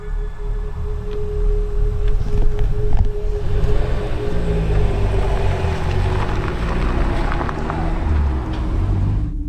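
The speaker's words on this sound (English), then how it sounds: "Luckily, the car drove off" A car engine runs steadily out in remote woods, a low continuous rumble holding at moderate loudness with a faint tonal hum and some shifting as it moves off.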